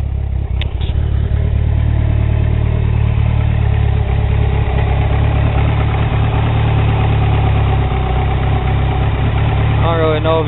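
A first-generation Eagle Talon TSi DSM making about 440 all-wheel horsepower idles loud and close, its low, stable rumble holding unbroken throughout.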